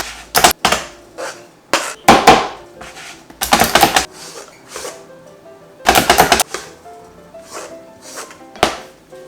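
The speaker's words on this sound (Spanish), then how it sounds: "Voy a picarlo con mi machacador." Olives are chopped with a plunger-style hand chopper, giving sharp clattering bursts in uneven clusters, near and fairly loud, with brief pauses between the rapid runs of strikes.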